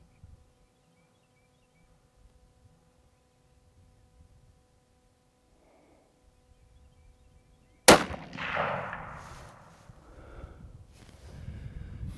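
A Bergara factory rifle fires one sharp, loud shot at a target range after several quiet seconds, and the blast rings out and decays into a long echoing tail.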